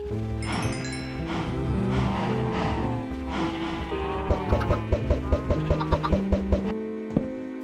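Clucking chickens in Minecraft over a busy background of game music and tones, with a run of short rhythmic clucks near the end.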